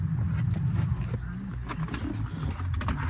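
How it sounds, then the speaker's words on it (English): A 2001 Mitsubishi Shogun 3.5 GDI V6 long-wheelbase automatic settles into a low, steady idle with a deep, rumbling hum, heard close by and continuous with no voices. "let's just start it up. Let me show you that GDI engine"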